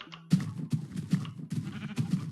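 Minecraft sheep bleat in short, repeated calls while being sheared, several quick blocky bleats in steady succession, fairly close and clear with no talk.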